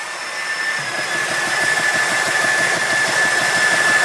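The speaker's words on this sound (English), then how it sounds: "when I hit start, which is this button up here, she's going to start chugging" A JTS air compressor starts and chugs with its bleeder valve open, a steady loud mechanical drone with a fast regular pulsing beat and a constant high whine, running alone without talk.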